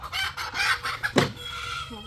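Chickens cluck and a rooster gives a short crow, close and moderately loud across about two seconds, with no talking.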